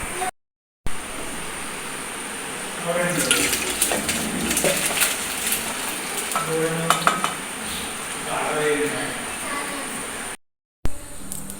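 Boiled pasta being drained off the stove for a creamy white sauce pasta, with splashing, pouring water and clattering pot sounds filling the middle of the clip, heard close and fairly loud with no talking.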